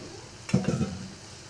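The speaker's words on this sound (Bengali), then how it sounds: "তারপর এটাকে একটু নেড়ে চেড়ে নেবে।" Soybeans frying in a pan are stirred, giving a single short scraping, sizzling stir of about half a second over a quiet background hiss.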